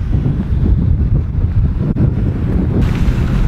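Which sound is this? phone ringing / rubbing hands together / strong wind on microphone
strong wind on microphone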